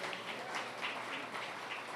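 Audience applause at the Central Subway grand opening ribbon cutting ceremony: faint, distant, steady clapping from a crowd, heard alone without talk.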